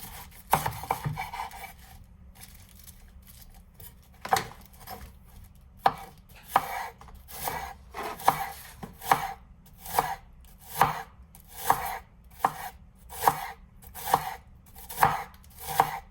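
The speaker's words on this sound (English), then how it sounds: "Even such a big cabbage today I'm cutting, and they do go effortlessly." Chef knife chopping through a big cabbage on a cutting board: about twenty crisp, close cuts, scattered at first, then a steady rhythm of crunchy chops with short scraping sounds between them and no voices.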